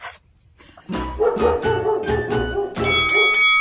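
A dog lets out a run of soft, breathy barks and whimpering yips, close by, growing slightly louder toward the end.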